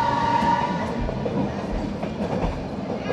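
A train rolls steadily through jungle near tea gardens, a continuous close rumble with faint rhythmic clatter from the cars and no talking.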